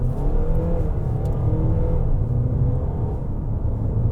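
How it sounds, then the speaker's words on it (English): A compact luxury SUV accelerates hard from a standstill, its engine giving a steady, loud, rising rumble heard from inside the cabin, with no talk over it. "when you gun it from a standstill, the shifts are hard and quick"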